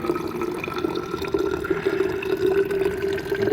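Water runs continuously from a tap in central Riga, a steady close gurgling flow with a tonal ringing pitch as a container fills, no voices.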